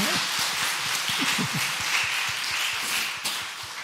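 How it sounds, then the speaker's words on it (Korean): A church congregation claps for the children during a Friday worship service, a soft, steady patter of many hands at a moderate distance with a faint voice underneath. "우리 애기들 박수 한번 해주세요"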